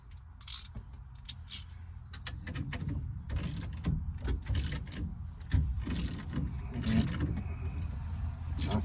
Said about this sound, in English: you just keep tightening that down, and it pulls the steering wheel